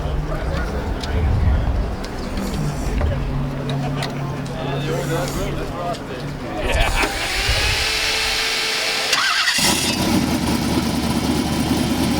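A classic car at an outdoor morning car show cranks and fires midway, then settles into a steady, close idle, with people talking throughout.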